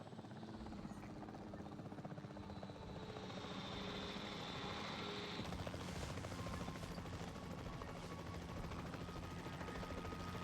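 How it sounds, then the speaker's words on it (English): A capture team helicopter in the video game Jurassic World Evolution 3 drones steadily with rotor and engine noise, joined by a higher whine partway through, over other game sounds. "The priority needs to be tranquilizing it with the capture team chopper."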